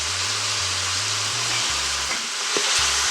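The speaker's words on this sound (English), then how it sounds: "as you can hear, the power pressure cooker is starting to simmer here" Chorizo sizzles and simmers inside a power pressure cooker, a steady close hissing fry with faint low humming pulses from the appliance underneath, no talking.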